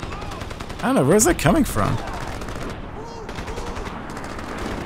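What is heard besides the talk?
mounted machine gun firing in Crysis, video game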